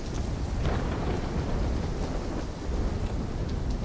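A thunderstorm in the video game Call of Duty: Black Ops 3 roars as a dense, steady wash of rain and deep rumbling thunder, loud and unbroken throughout.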